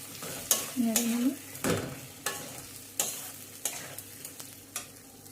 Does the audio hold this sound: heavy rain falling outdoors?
no